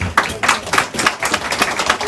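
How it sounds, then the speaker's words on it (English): Steady, dense clapping from a crowd at a property auction in Dandenong, Victoria, a continuous patter of many hands with regular loud bursts, sustained throughout without speech. "big round of applause"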